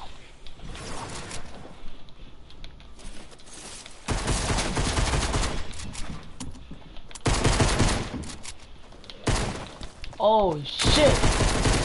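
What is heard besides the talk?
shotgun and pistol gunfire in a video game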